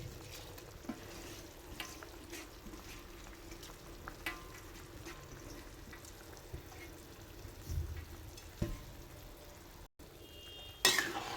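Washed rice that was soaked for half an hour goes into a pot of boiling water for a whole masoor and val pulao and is stirred, with quiet bubbling and a few soft scrapes and clinks close by, ending in a louder clatter.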